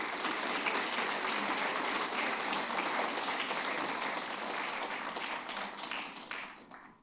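Audience at a special recognition ceremony breaks into dense, sustained applause from a crowd indoors, steady for several seconds before tapering off at the end.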